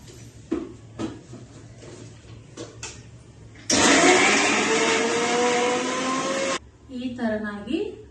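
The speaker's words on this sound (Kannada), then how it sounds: "ಮೆಣಸಿನಕಾಯಿ ಮತ್ತು ಕರಿಬೇವು ಕೊತ್ತಂಬರಿ ಬೆಳ್ಳುಳ್ಳಿ ಉಪ್ಪು ಮತ್ತು ಜೀರಿಗೆನ ಹಾಕಿ ರುಬ್ಕೊಂಡ್ಬರ್ಬೇಕು" A kitchen mixer grinds chilies, curry leaves, coriander, garlic, salt and cumin in a loud, steady whirring burst lasting about three seconds, preceded by brief knocks and followed by a short voice.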